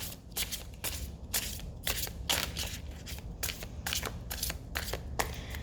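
A deck of tarot cards is shuffled close by in repeated quick riffles, a rhythmic series of crisp flapping bursts at a fairly quiet level.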